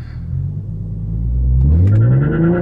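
An Infiniti Q50 launching hard, the engine rumble swelling into a rising rev as it accelerates, loud and close from inside the car.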